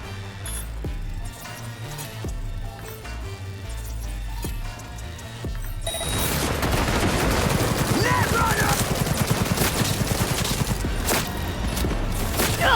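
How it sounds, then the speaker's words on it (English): Rapid bursts of gunfire in Cyberpunk 2077 erupt midway and continue densely to the end, loud and close, with sharp metallic clinks scattered among the shots after a quieter opening. "everybody stop shooting me"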